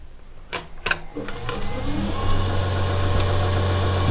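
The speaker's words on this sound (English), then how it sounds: "you can see the motor spinning there" An electric motor on an Emco V10-P machine, driven by a VFD, starts after a couple of switch clicks and ramps up into a steady, close hum that holds evenly through the rest.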